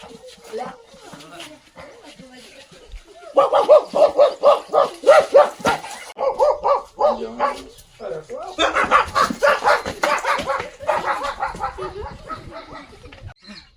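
A man mimics a dog's barking with a run of loud, rhythmic woofs and yips, pausing briefly before another burst of imitated barks.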